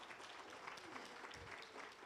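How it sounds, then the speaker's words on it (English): Audience applause at a university lecture event, a faint, distant patter of many hands clapping that continues steadily throughout. "Let's give them a round of applause for their journey."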